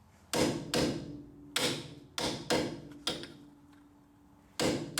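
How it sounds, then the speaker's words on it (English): A hammer strikes the metal flange of a Ford van sway bar axle bushing, landing about six sharp, ringing blows at irregular intervals in a quiet space. "I'm just beating right on the metal flange."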